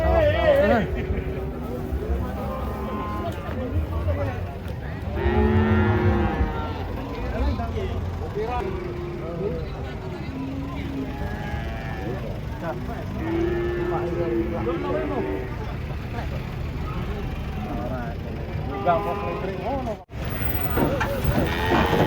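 Cattle being unloaded from a truck give repeated drawn-out moos, some loud and close, mixed with people talking and shouting throughout and a brief knock near the end.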